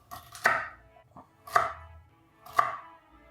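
Three sharp chops land about a second apart, each a crisp close knock with a short ringing tail, alone with no voices around them.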